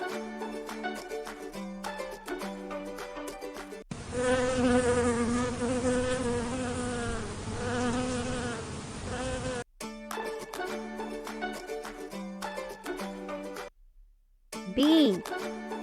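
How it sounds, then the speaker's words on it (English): Bee buzzing, a dense, continuous wing drone of about six seconds, loud and close, set between stretches of unrelated sound. "Bee."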